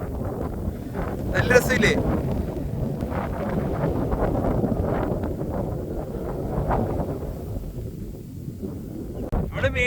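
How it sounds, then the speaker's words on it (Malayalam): Strong wind gusts across the microphone at a hilltop viewpoint in Kollam, a continuous buffeting rumble under a person talking throughout. "ഭയങ്കര കാറ്റ് കാരണം ഒരു രക്ഷയില്ല."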